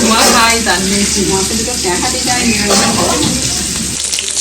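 Chopped tomato dropped into dal cooking over a wood-fired stove, giving a loud close hiss and bubbling sizzle that carries on steadily, with a faint voice underneath.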